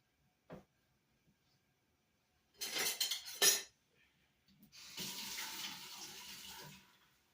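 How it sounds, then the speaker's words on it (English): Whole milk pours into a cooked flour and butter mixture and a whisk beats it in, with a brief splash, clinks and a rushing liquid stir, close and quiet with pauses between. "we're going to now add our milk, and then we're going to whisk our milk in"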